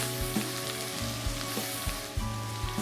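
Chopped garlic hits smoking-hot oil on a very high flame and sizzles steadily, a dense close crackle with occasional spits and a faint stir, no voices.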